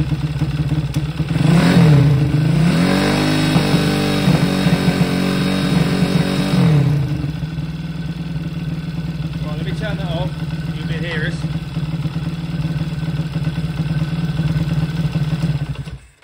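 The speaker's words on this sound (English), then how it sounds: "So I'm going to bring the revs up now." A Zongshen Z190 small engine with an aftermarket ignition corrector is revved hard for several seconds, its pitch rising and falling, then drops back to a steady, loud idle that runs on to the end.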